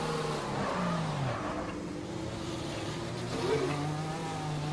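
Race car engine in F1 2020 driven slowly back to the pits with no front downforce after damage, a steady droning hum with gentle pitch rises and falls, continuous and fairly close.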